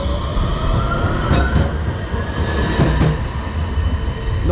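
A train on the Robin Hood Line pulls away from a station platform, a steady loud rumble of wheels and rail noise throughout with brief sharp squeals and clicks partway through.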